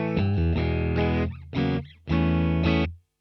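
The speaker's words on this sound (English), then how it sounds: "So this is my clean sound through the Katana." A Telecaster electric guitar played through a Boss Katana amp on its clean setting, a few strummed chords ringing out in separate bursts before fading to silence.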